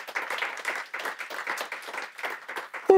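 An audience claps continuously for a few seconds, a steady patter of many hands at moderate loudness that cuts off abruptly at the end.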